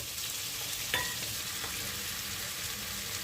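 Whole peeled garlic cloves and ten cashews fry in a pan with a continuous, even sizzle, marked by a single sharp clink of utensil against metal partway through.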